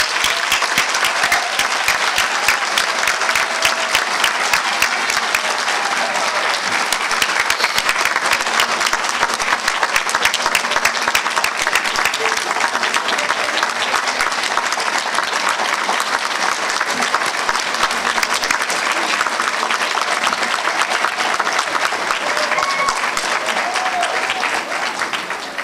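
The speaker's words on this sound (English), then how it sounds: "At this time, please give all our graduates a round of applause." A large audience applauds nursing graduates at a fall pinning ceremony, dense sustained clapping that holds at full strength for a long stretch, with faint crowd murmur beneath.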